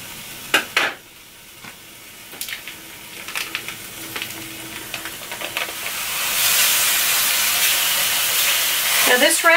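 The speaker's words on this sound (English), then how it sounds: "I'm going to brown 2 pounds of meat, one of which is an organic grass-fed beef, and the other is an all-natural preservative-free sausage." Two pounds of organic grass-fed ground beef and preservative-free sausage browning in a pan, a few sharp clacks of utensils, then a broad hissing sizzle that swells and holds loud, close by.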